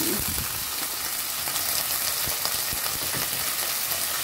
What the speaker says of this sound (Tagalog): Ilagay natin yung ating sabaw na ito.